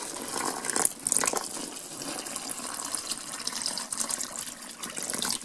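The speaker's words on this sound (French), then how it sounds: "Maintenant je vais verser l'eau." Water poured from a container into a mound of plaster powder, a steady splashing and trickling pour that runs close and fairly loud for the whole stretch with no talking.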